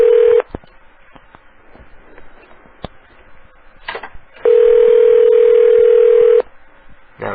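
Several bursts of telephone keypad dialing tones, a short one at the start and a long steady tone held for about two seconds midway, loud and alone over a quiet background.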